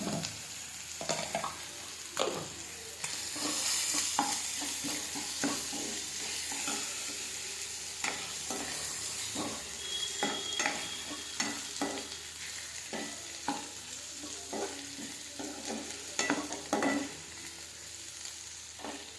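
Chicken gizzard frying in a pan with onion, ginger and garlic paste, a steady close sizzle broken by repeated scraping stirs of a spoon against the pan throughout.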